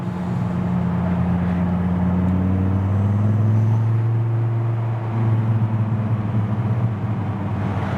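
Engine of a stock 1997 Dodge Viper fitted with a Sneaky Pete Mopar exhaust on a test drive, a deep steady drone that climbs in pitch as revs rise, heard from inside the car with no talk.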